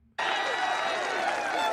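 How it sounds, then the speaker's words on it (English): A large crowd at the Combo Breaker fighting game finals erupts suddenly and roars continuously, with loud cheering, clapping and chanting filling the space after a brief quiet start. "Hearing people chant season 2."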